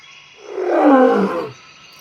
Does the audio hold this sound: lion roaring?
yes